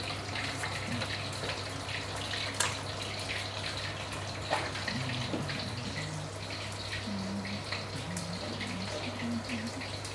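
Sliced fish being rinsed under a running tap for a Thai-style fish dish; the water pours in a steady, continuous stream with faint clinks, and nobody speaks.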